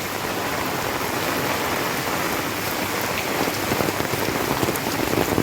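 Heavy monsoon rain pours onto a flooded street where two lanes meet, a dense, loud, steady hiss of drops striking water and surfaces with no pause.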